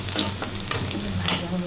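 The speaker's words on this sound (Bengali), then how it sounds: "এখন এর মধ্যে দেখেন রসুন আর পেঁয়াজ এগুলো ভেজে নেব" Garlic and onion frying in a pan with green chilies, a steady close sizzle with faint stirring scrapes running through the whole short stretch.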